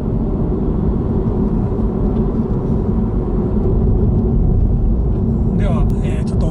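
Honda Civic with a six-speed manual gearbox driving along a mountain road, a steady loud rumble of engine and road noise with no clear changes throughout.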